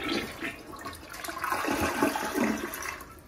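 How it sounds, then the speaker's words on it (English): A PROFLO toilet loaded with toilet paper is flushed, producing a loud rushing, gurgling swirl of water that swells and continues through the clip. "Let's flush."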